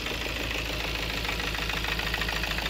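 A Peugeot engine with a misfire idles close and loud, its steady drone broken by an uneven, rhythmic knocking pulse that runs without pause.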